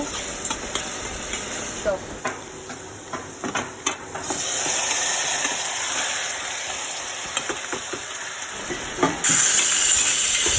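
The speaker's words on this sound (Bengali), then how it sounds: "এখন পেঁয়াজটাকে ভাজা ভাজা করে লাল করে নেব" Chopped onions frying in oil for homemade chicken biryani, a continuous sizzle with occasional stirring scrapes and clinks, growing louder and brighter partway through and surging again near the end.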